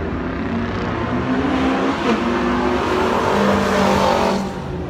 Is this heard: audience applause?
no